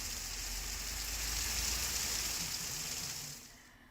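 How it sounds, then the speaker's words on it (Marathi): Heavy rain pours steadily with stormy wind, a dense, even hiss of water close by that runs without a break and then drops away toward the end. "वादळी वाऱ्यासह मुसळधार पाऊस झाल्यामुळे मोठ्या प्रमाणात नुकसान झालंय"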